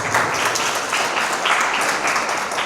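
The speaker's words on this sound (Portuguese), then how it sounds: "Você pode aplaudir Jesus?" A church congregation bursts into applause at a worship service. Dense, even clapping from many hands continues throughout at moderate volume, with no voice over it.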